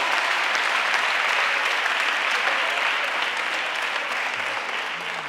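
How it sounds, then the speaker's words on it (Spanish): Dense, continuous applause from an audience, loud and even at first, then easing off slightly toward the end. "Un fuerte aplauso."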